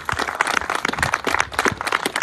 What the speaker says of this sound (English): let's give a round of applause and our appreciation to Ms. Tara Martin and Lindsay Pegg